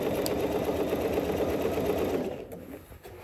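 A sewing machine stitches the underarm seam of a garment sleeve with a gusset, a fast continuous whirring hum up close that slows and fades near the end.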